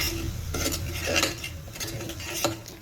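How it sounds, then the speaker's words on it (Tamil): Spoon stirring masala spices of garam masala, chilli powder and salt in a pan, with repeated light metallic scrapes and clinks at an irregular rhythm, close and moderately loud. "கொஞ்சம் அப்படியே லைட்டாக மிக்ஸ் பண்ணிவிட்டு"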